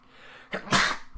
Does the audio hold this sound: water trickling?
no